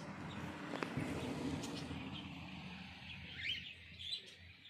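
Birds chirp and call in the open at Nelapattu, scattered short tweets at moderate distance over a faint outdoor background hum.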